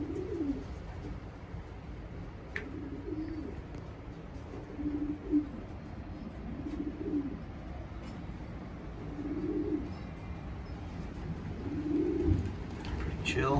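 Racing pigeons cooing in a loft, soft repeated low coos rising and falling every couple of seconds, steady and close, with a faint background hum.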